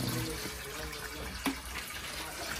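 Water runs steadily into a washing machine tub, a soft continuous wash of filling liquid at close range with a brief splash partway through.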